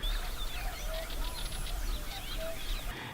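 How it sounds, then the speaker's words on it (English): Birds call in Dana nature reserve, Jordan, with repeated honking and chirping calls over a steady low outdoor background, moderately near and continuing throughout without speech. "you wake up early in the morning and you hear all these"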